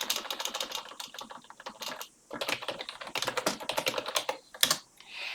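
Someone types on a computer keyboard nearby, a quick irregular patter of key clicks in bursts with a short pause midway, close and clear with no talk over it.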